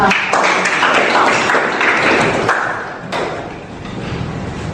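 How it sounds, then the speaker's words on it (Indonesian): Students in a classroom clap together in a loud burst of applause with sharp individual hand claps, easing off after a few seconds into scattered claps and room noise. "Tepuk tangan untuk Amanda."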